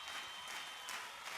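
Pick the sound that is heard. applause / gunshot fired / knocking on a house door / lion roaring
applause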